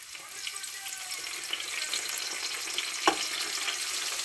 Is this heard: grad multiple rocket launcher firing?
no